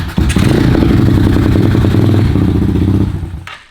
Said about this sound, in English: and then you can hit the starter button.